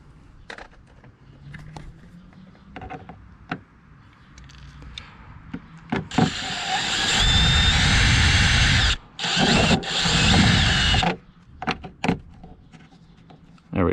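A power drill whirs in several short bursts while enlarging a hole to mount an overhead rack on a Jeep Wrangler JL, with clicks and handling noises between runs.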